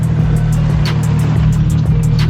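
Car engine fitted with a new turbo and new fuel rail, a loud steady close engine drone with faint whooshing and hissing flutters laid over it, and no voices.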